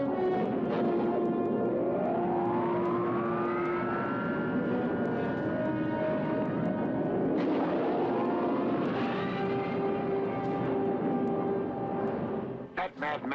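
Spaceship thrusters fire in a sci-fi movie trailer near a black hole, with loud roaring rumble and rising whooshing sweeps that swell twice over a sustained drone. Voices speak over parts of it.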